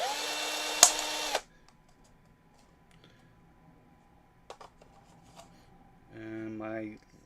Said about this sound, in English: I'm just putting some light pressure while I'm drilling these.